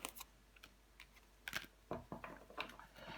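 Tarot cards laid down one after another on a table, giving a run of soft, sharp taps and slaps with short gaps between them in a quiet room.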